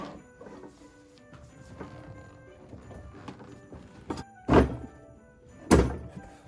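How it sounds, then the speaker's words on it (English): Two distinct plastic clicks as snap locks seat into place on a 2024 Home Depot Minion animatronic, sharp and close, following quieter handling rustles and light taps. "You can hear those snap locks both go in."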